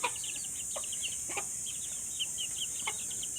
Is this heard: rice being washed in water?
no